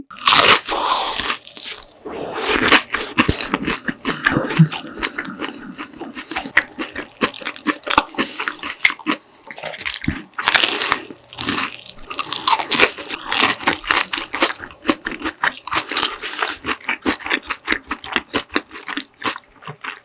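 Close, loud crunchy bites and chewing of a crisp fish-shaped bungeoppang pastry, eaten tail first, with rapid crackling bursts and irregular pauses, no talking.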